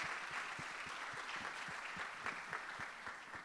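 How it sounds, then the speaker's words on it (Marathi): Congregation at a Sunday church service in Pune applauding, an even wash of many hands clapping, moderately distant and fairly quiet, with no talk over it. "आपण सर्वजण तिच्यासाठी टाळ्या वाजवूयात"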